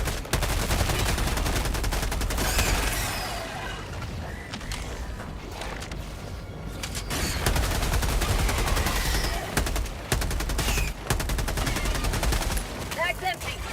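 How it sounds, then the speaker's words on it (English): Autocannon fire in Helldivers 2 against a bug outpost, heavy repeated booming shots running through most of the stretch amid dense battle noise and explosions, loud and close. "I should use the auto cannon."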